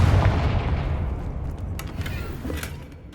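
A Confringo fire spell explosion in the Hogwarts Legacy video game, a loud booming burst at the start whose low rumble fades slowly over a few seconds, with smaller crackles later on.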